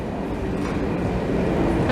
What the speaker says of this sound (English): Here comes another train into the other platform 5.